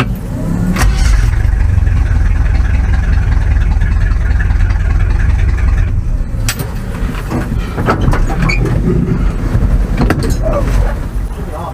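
A hot, up-to-temperature car engine fires up and keeps running loud and close, its steady roar broken by occasional clanks and bumps.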